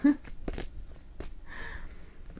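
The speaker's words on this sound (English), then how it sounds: "I'm sorry if my shuffling's really loud" Tarot cards shuffled right beside the microphone, a few quick riffling bursts of papery flutter and snapping, close and fairly loud, with a voice talking over the shuffle.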